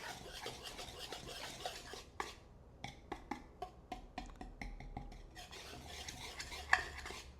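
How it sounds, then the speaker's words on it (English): A whisk stirs and mashes small chunks in a bowl of pumpkin muffin batter, producing a series of scraping, tapping strokes at a steady rhythm, close and fairly quiet, with no talking. "I can kind of mash up any little chunks with the end of the whisk"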